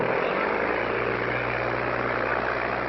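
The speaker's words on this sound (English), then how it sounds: "Bill's going to fly his own plane" A propeller plane flown by its builder roars steadily at close range, a dense unbroken engine drone with a low throbbing hum that stays level from start to finish.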